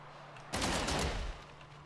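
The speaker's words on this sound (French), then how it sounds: "Là, ça tire." A weapon fires in the space game No Man's Sky as a short, dense burst of rapid shots lasting under a second, loud against a quiet background.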